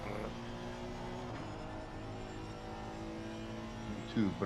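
Race car engines hum steadily as cars crawl out of the pit lane at COTA in Assetto Corsa Competizione, a low droning tone under the mix, with a brief louder burst near the end.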